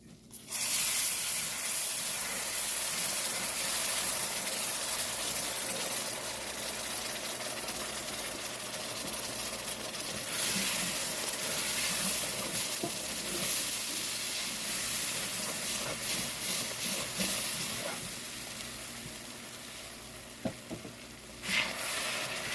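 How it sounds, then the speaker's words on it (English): Beef broth hits a dark, sizzling roux for oxtail gravy, producing a loud, sustained steamy hiss and sizzle that fades slightly over about twenty seconds, with no talking. "I'm going to go ahead and put some beef broth in"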